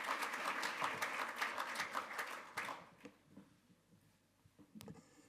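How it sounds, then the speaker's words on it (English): An audience at a conference forum gives warm applause, a dense burst of clapping for a couple of seconds that thins and fades into scattered claps and room noise. "I would like to have a warm applause for Wolfgang Münch"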